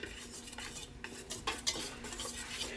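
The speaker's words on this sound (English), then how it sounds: "And you're going to whisk all this together." Seasonings are whisked together in a bowl, giving quiet, quick clinks and scrapes of metal against the bowl in an uneven rhythm that is close but faint, with no talking.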